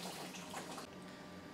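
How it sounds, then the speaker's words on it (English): Water runs steadily through the hose of a HiFlo RO30G/RO30C water purification system on the pure water side, a continuous close hiss with no talking. "you need to turn on your pure water side, which the hose is connected to go to your pole."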